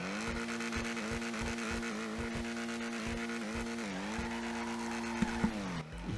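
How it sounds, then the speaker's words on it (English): A Lampadati Komoda sports car in GTA Online revs its engine, rising and falling through repeated throttle blips with a steady growl underneath, loud and close, no voices. "Yes, this car sounds so good."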